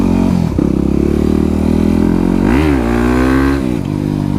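A 2009 Yamaha WR250X motorcycle under way, its single-cylinder engine buzzing loud and close, with a quick rev blip midway before settling back to a steady cruising drone.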